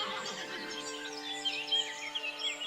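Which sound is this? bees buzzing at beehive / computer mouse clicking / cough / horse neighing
horse neighing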